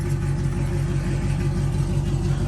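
A Gen 5 Chevrolet Camaro SS V8 idles steadily while warming up, a deep continuous low rumble heard up close with no voices over it.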